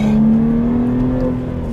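A Subaru Legacy's flat-six engine pulling smoothly under acceleration while driving, a loud, steady hum with a sustained tone that rises slightly, heard from inside the car with no talking.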